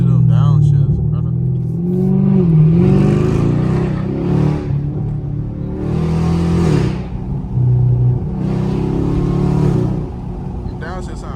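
A Chevrolet Camaro SS V8 engine downshifts and revs loudly on the street, the exhaust note swelling in repeated bursts up close, with wind noise and someone talking over it.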